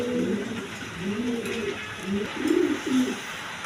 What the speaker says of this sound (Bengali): দর্শকবৃন্দ এখানে এক পেয়ার শার্টিং কবুতর আছে